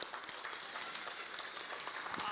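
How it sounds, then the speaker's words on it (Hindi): A school annual-day audience claps after a magic trick. The applause is faint and distant, a thin, steady patter of many hands with occasional sharper claps. "तालियां जोर से।"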